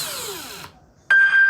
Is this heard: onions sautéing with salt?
no